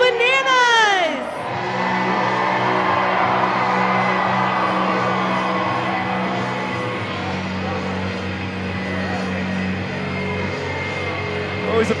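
A full-capacity crowd at historic Grayson Stadium during a Savannah Bananas game against the Party Animals, roaring and cheering loudly and continuously after a brief shouted announcement, with whoops rising from the stands.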